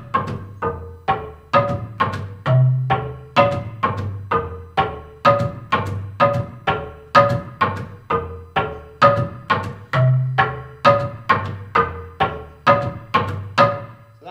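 Wooden embaire xylophone from Busoga, Uganda, played on its big low keys. A steady, rapid pulse of deep resonant strikes forms a repeating bass line, loud and close, with no voices.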